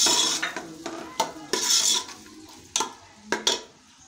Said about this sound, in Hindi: अब इसमें प्याज डालूँगी